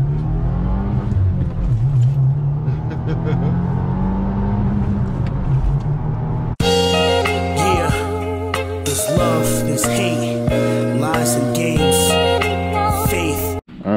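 Engine of a 2022 Subaru WRX in Solar Orange, driven and accelerating. A steady engine drone builds through the first half, then loud rising revs with clear gear-change steps carry on to the end.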